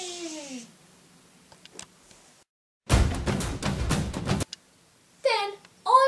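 A scanner runs for about a second and a half with a loud mechanical whir and rapid clicking, after quieter handling noises and short squeaky sounds.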